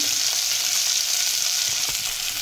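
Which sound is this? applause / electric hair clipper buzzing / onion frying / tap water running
onion frying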